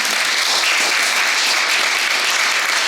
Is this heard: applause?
yes